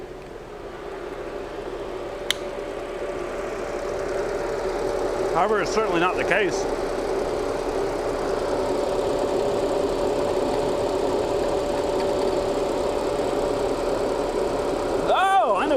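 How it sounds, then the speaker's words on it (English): An Audi engine idles with a running cooling fan that rubs against a part, a steady hum with brief scraping bursts, while a person speaks over it. "The motor's spinning. I bet you when the car's tilted up, the fan hits the thing."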